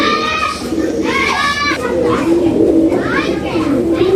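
Army line pigeons coo in low, soft bursts close by, mixed with chattering human voices that sound like children throughout.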